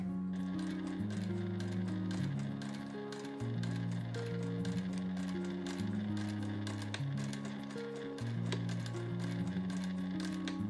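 A sewing machine stitches a bamboo tote bag in a steady, quiet rhythm of rapid needle clicks and motor hum, running in short bursts with brief pauses between them.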